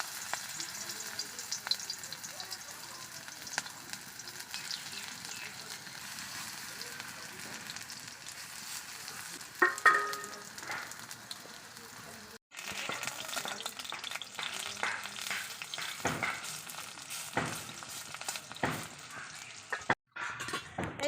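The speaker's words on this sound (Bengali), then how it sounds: "আমি বড়া ভাজার জন্য তেল দিয়ে দিচ্ছি তেল গরম হয়ে গেছে আমি এই যে ব্রাহ্মী শাকটা মেখে রেখেছিলাম আমি ভেজে নিচ্ছি" Brahmi leaf fritters (bora) fry in hot oil, a steady close sizzle running the whole time, with brief utensil clinks and stirring scrapes and a short pause partway through.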